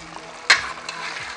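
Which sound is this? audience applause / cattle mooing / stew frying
stew frying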